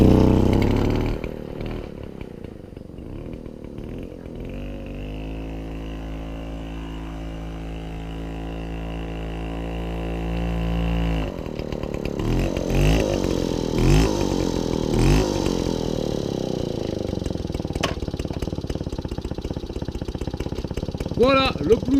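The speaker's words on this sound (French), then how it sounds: "Voilà, le Brunto démarré" A custom Motobécane moped coughs into life after a push start, then settles into a steady buzzing two-stroke idle, close and loud, with the engine note roughening and rising toward the end.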